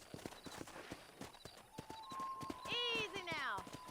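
Horse hooves clip-clop at a steady walking pace in the Red Dead Redemption video game on a cattle-herding ranch. Partway through, a horse neighs loudly and descends in pitch, and the hoofbeats continue under light background sound.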